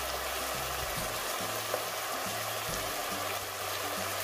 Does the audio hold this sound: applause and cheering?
no